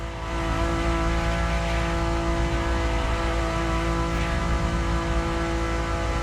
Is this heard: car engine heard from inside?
yes